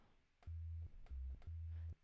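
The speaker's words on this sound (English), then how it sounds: "basically, you start off with just like a regular sine note." Three steady low sine tones, each about half a second long, with brief gaps between them; pure, smooth and close, with no other sounds.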